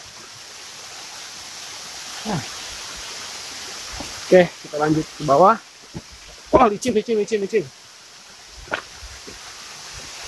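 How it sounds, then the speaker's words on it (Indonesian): Rushing water from the Curug Tarengtong waterfall in Cianjur forms a steady, distant hiss. People talk and breathe over it while walking on a slippery descent. "Mungkin mikrofonnya juga tidak terlalu kedengeran karena suara air terjunnya terlalu gemuruh"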